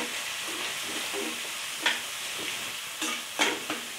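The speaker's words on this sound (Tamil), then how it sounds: "நம்ம பொடி பண்ணி வச்சுருக்கிற பட்டையும் சோம்பும் இதையும் இந்த எண்ணெயில் போட்டுக்கலாங்க" Ground cinnamon and fennel frying in oil, a soft continuous hiss with a few sharper spatters and stirring clicks, close and fairly quiet, no talk.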